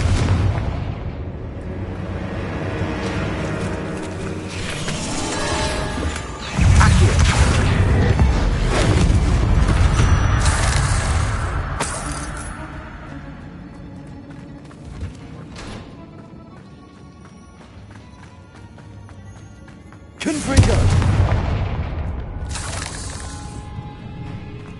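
Confringo blasting spell explosions in the wizarding game Hogwarts Legacy, heard as two big booming blasts with rumbling decay, one near the middle and a sharp one late, separated by quieter stretches with music.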